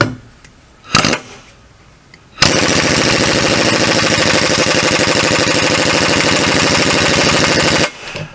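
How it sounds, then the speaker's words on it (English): An air compressor kicks on after a couple of brief knocks and runs loud and steady with a fast rhythmic pumping chatter for about five seconds, then cuts off abruptly. "let me let the compressor fill up"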